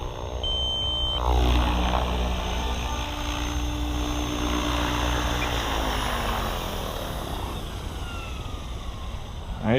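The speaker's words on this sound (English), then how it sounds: "SAB Goblin Raw 580. Such an incredible helicopter." A SAB Goblin RAW 580 radio-controlled helicopter on its maiden flights, a steady high rotor whine and buzz with pitch shifts as it manoeuvres, fairly close, a brief beep near the start and no talk.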